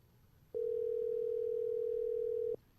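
Telephone dial tone during a call attempt, a single steady loud tone lasting about two seconds, starting and stopping abruptly over faint background murmur.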